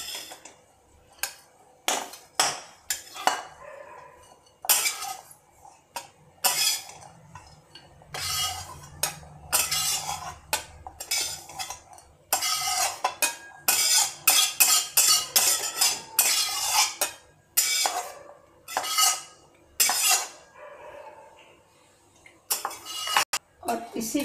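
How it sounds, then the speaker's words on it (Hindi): A spoon stirs and scrapes grated coconut in a hot kadhai, giving repeated metallic clinks and scrapes in irregular bursts, close and fairly loud, with no voice over it. "इसको केवल गरम कढ़ाई में डाल के हमें बस एक से दो मिनट हल्का सा तला लेना है"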